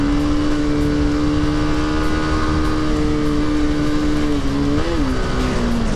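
A TVS Apache RR310 motorcycle on a hard test ride roars loudly and continuously under wind noise, its engine tone dipping at a gear change before climbing again.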